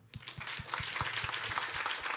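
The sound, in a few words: audience clapping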